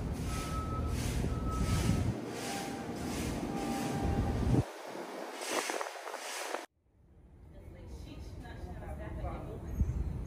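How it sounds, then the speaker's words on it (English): An L subway train pulls into an elevated station platform at Livonia Avenue, loud rumbling rail noise with a steady high whine and a beeping tone, then braking squeals, followed by a quieter platform ambience after the train stops. "Parkway bound L train is now arriving."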